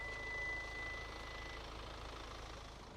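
A 2025 Hyundai Palisade engine idles quietly with a low, even hum and faint steady mechanical drone, alone and unchanging throughout.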